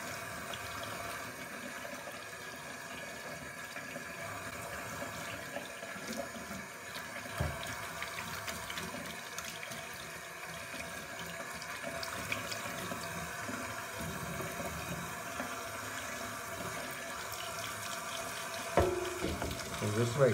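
Tap water runs steadily into a sink while rinsing spray-on cleaning agent out of a Harley-Davidson Screaming Eagle air filter, a continuous close splashing hiss that grows louder and more turbulent near the end.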